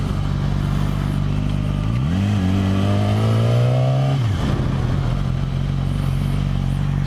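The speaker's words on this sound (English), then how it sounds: "Freeway noises suck, make it almost impossible to hear." Motorcycle engine droning steadily on a freeway ride, with the revs climbing in a rising whine midway and then dropping back, wind and road roar constant throughout.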